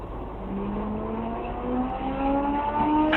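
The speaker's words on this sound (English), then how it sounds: "But now there's car sounds." Cars race past with rising engine whines and revving, a steady mid-distance roar of traffic building slightly louder toward the end.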